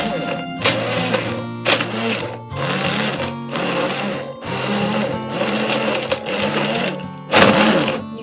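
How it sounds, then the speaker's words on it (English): Blender pulsing a smoothie in repeated short bursts, the motor whirring up and cutting off about eight times with brief pauses between, loud and close, with a voice speaking briefly between bursts. "Usually just pulse it, like don't hold it down, just pulse it a little bit so that it blends up easier."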